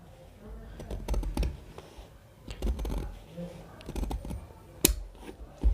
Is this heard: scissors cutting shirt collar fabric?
yes